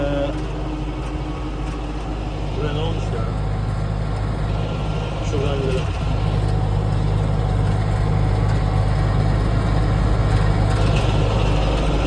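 A tractor engine drones steadily while driving at around 1600 rpm, a constant loud low rumble filling the background, with a person talking over it.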